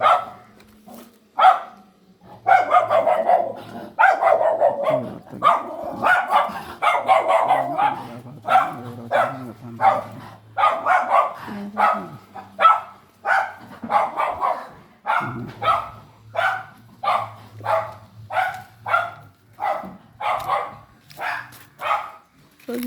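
A dog barks repeatedly at a household, a long series of sharp barks, fairly close, that settles into an even, steady rhythm toward the end, with no talk heard.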